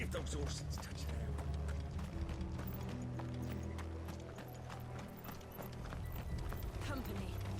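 Horse hooves clip-clop in Final Fantasy XVI, a steady rhythmic trotting that runs the whole stretch alongside voices and a low background score.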